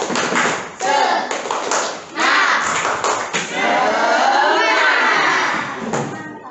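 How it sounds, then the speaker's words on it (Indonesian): A classroom of students doing a spirited clapping chant led by a teacher, loud bursts of group clapping and shouting in rhythmic phrases, broken by short pauses, close and energetic. "kita akan lebih semangat lagi hari ini dengan tepuk semangat"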